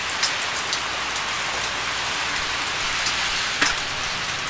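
Heavy rain pours down outside in a steady, dense wash of sound, with a few louder drops now and then and no voices.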